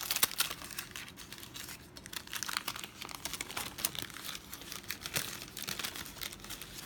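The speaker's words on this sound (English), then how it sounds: "take out some ice cream sandwiches and unwrap them" Ice cream sandwiches are unwrapped from their plastic wrappers, giving close, continuous crinkling and crumpling with occasional sharper tearing rustles at a soft level.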